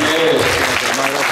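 Students in the audience at a radio station's first-anniversary event give a short, loud burst of steady applause.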